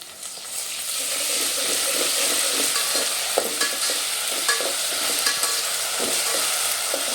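Sliced onions sizzle and crackle steadily in a hot pan with ginger garlic paste for a masala mutton dish, a dense continuous frying hiss broken by occasional stirring scrapes, close and fairly loud with no talking.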